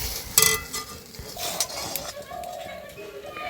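Cornflour batter stirred in a wok as it thickens for papad, with a spoon scraping and clinking against the metal in short, uneven strokes over a faint background hiss.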